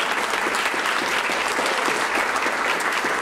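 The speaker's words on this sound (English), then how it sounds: "Let's give them all a round of applause." Warm, continuous applause fills a room at an annual meeting and awards breakfast, with dense, even clapping from a seated audience throughout and no voices over it.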